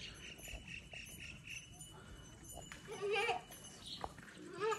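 Goats bleating outdoors, a few short wavering cries rising above a low background of insects and distant voices, with one nearer bleat near the middle and another at the very end.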